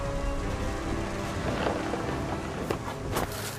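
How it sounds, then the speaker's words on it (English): Steady heavy rain in a video game storm scene, a dense continuous hiss with a couple of faint sharp cracks of thunder late on. "The thunder sounded much too close and full of angry power."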